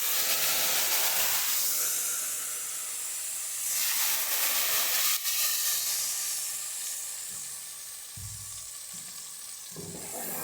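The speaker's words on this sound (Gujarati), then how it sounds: "ઢોકરીનું શાક વઘારી નાખીએ" Dhokli shaak being tempered (vaghar) in hot oil gives off a loud, steady sizzle and steamy hiss that swells and eases over several seconds, with a few low clatters near the end.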